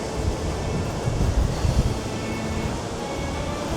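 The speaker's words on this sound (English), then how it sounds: "Quite windy today, as you can hear." Strong wind by the Atlantic Ocean in Rabat roars and buffets hard against the microphone, with a broad rushing noise and gusts that thump in the low end; no one talks.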